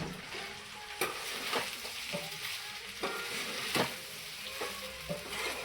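Sabudana khichdi with potatoes sizzling steadily in a hot pan, with the scrape and clatter of a spoon stirring at irregular intervals over the constant frying hiss.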